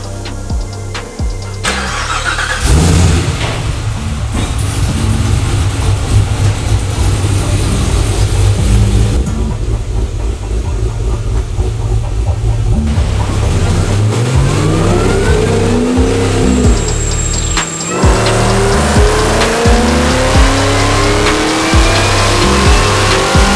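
A Cadillac CTS-V3 engine revs loud and close during a chassis dyno pull, climbing through repeated wide-open-throttle sweeps with gear changes and a brief dip before revving again.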